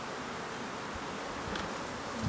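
Honey bees swarm around an open hive in a constant, soft buzzing drone, steady and close, with faint rustling as frames are handled.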